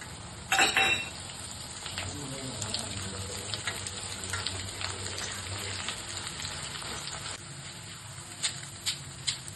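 Flattened rice (poha) dropped into hot oil for a homemade mixture snack, a loud hissing burst at the start settling into a steady close crackle and sizzle, with a few light clinks near the end.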